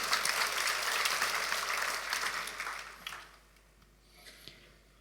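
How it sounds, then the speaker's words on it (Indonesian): Church congregation breaks into a burst of applause that fades away after a few seconds, leaving a quiet room with a faint trailing clap or two. "kita beri tepuk tangan untuk kebenaran ini."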